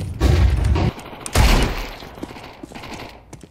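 Gunfire bursts from a Counter-Strike 2 match: a heavy volley up front, a second loud blast about a second later, then scattered fainter shots trailing off.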